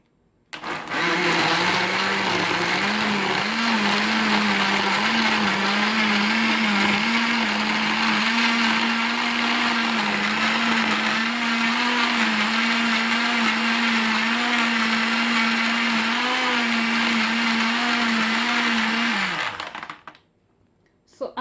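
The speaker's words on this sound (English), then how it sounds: "So I'm going to show you guys how to blend this." A kitchen blender whirring at steady full speed for nearly twenty seconds while blending a banana milkshake at home, loud and close, then stopping abruptly.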